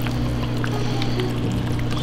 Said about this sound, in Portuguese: Aí aqui nós mete um meio litro de leite, né?